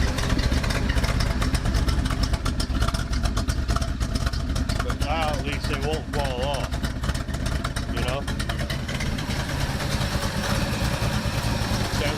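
1976 Ford Ranchero 500 engine, with leaky band-clamped 4-inch exhaust pipe, idles loudly and steadily close by, a dense rumbling drone throughout with someone talking briefly over it.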